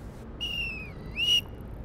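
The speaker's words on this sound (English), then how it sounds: "She's got a whistle." An instructor blows a whistle on a children's show: two shrill, sliding blasts, the first longer and dipping in pitch, the second shorter and rising, heard alone against a quiet background.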